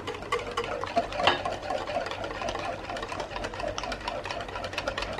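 A whisk or spoon mixes chocolate batter in a bowl for an easy, quick chocolate cake, a steady rapid ticking and scraping rhythm that runs continuously, close up, with no voices.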